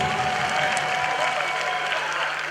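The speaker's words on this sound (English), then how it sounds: "Please clap for them. Clap for them." An audience claps steadily throughout, a dense, sustained round of applause with no talking over it.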